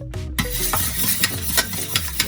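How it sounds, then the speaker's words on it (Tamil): Egg beaten with a whisk in a mixing bowl for a ragi chocolate brownie batter: quick, steady, rhythmic strokes, each with a faint clink against the bowl, close and clear with no talking. "விஸ்க் வச்சு நல்லா பீட் பண்ணிப்போம்."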